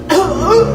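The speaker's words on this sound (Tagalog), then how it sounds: "Oh, ayan na. Inuubo na." An elderly man, about 75 years old, gives a short, close cough that breaks into a chuckle, in a single burst lasting under a second.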